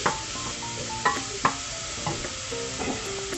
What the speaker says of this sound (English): we're going to give this a stir and let it get al dente